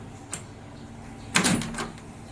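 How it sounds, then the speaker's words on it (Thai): The door of a Sharp R-220 microwave oven is opened during a repair, with a small click followed by a louder latch clunk and brief rattle, close and alone in a quiet room. "ให้เราเปิดประตูก่อน"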